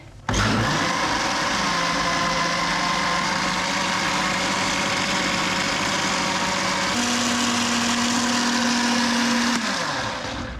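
A kitchen blender whizzes pancake batter in one loud, continuous motor whine that starts abruptly, holds steady for about ten seconds and shifts pitch upward near the end before winding down.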